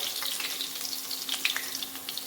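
Steady hissing sizzle of garlic frying in hot oil, with small crackles and pops close by.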